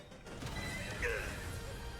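A horse neighs in a fantasy action video game during a fight, a shrill whinny rising over steady game ambience and low rumbling effects, with hoof-like clatter nearby.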